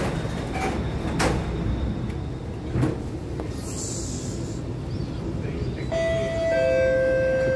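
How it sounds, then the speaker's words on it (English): A Singapore MRT R151 train's doors close at Raffles Place: steady carriage rumble with a few thumps, then a clear electronic door-closing chime of repeated tones near the end. "Doors are closing."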